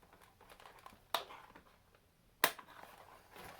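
Small eyelash scissors snip through a strap on a little toy doll: two sharp, isolated clicks about a second apart, close and fairly quiet, with faint rustling between them.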